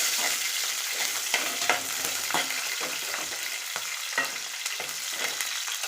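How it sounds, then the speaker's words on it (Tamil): Garlic, green chili and tamarind sauté in a pan for a coriander chutney, giving a steady close sizzle broken by repeated soft scraping stirs. "எடுத்து வச்ச பூண்டு, பச்சை மிளகாய், புளி இதை சேர்த்துக்கலாம். இதெல்லாம் வதங்கட்டும்"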